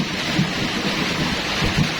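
Very heavy rain pours down in a steady dense roar, with low thunder rumbling beneath it in a few swells, and no voices.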